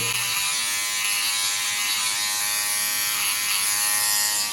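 A Philips OneBlade electric trimmer buzzes steadily and close up as it trims along a beard line, a continuous bright whirring hum with no speech.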